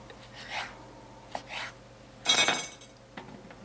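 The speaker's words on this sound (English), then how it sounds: "Put them all on the cookie sheet, right there." Pork chops with homemade breadcrumb stuffing being set down on a metal cookie sheet, a few soft scraping and clattering touches, with one louder clunk and rasp near the end, close by in a quiet kitchen.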